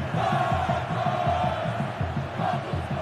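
Corinthians supporters fill a stadium during a Libertadores football match against River Plate, a dense, continuous roar of crowd cheering with rhythmic chanting pulses running throughout, loud and close.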